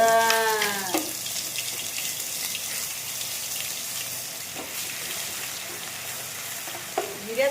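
Garlic and cumin fry in oil in a pan for a paneer curry, hissing and sizzling steadily, with a few clinks and stirs near the start and end.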